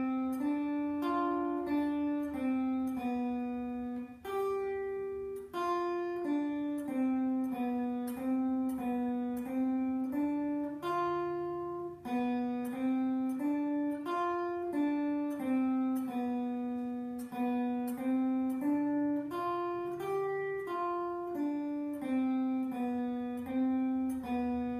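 A guitar plays a world beat exercise as a steady run of single picked notes in a repeating, even rhythm, clear and close with no voice over it.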